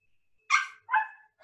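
A voice imitates a dog barking, two loud, close woofs in quick succession, alone, with no other sound around them.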